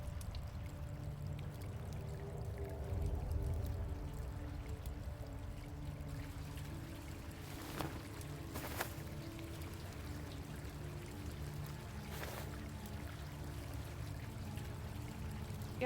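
Steady rushing of flowing water in the horror game True Fear: Forsaken Souls, a continuous low wash lasting throughout with a few brief sharp clicks over it and no talking.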